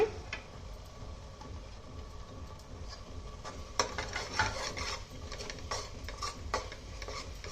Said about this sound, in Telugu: ఎవరెస్ట్ మసాలా, చింత చిగురు, ఇవన్నీ బాగా మిక్స్ చేసుకుందామండి